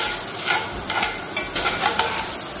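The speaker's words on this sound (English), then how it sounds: "Once I get this sausage cooked up a bit, and we're gonna take this out." Sausage browns in a pan for Southern fried cabbage, a loud, close crackling sizzle with rhythmic stirring scrapes roughly every half second.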